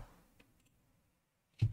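A computer mouse clicks while dictation is set up in Windows 11: one faint, sharp click, then a louder, fuller click about a second later, in an otherwise quiet room.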